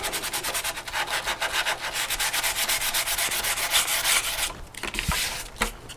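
Rapid back-and-forth rasping of fine 320-grit sandpaper rubbed by hand on metal, steady and close, with a few short pauses and scrapes near the end.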